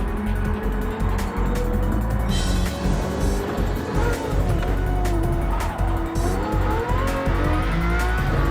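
Race cars on the final lap of a racing series, their engines roaring loud and continuous up close with rising and falling revs and brief tire squeals.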